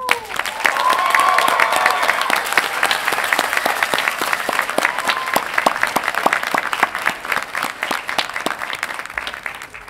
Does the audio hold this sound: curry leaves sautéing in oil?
no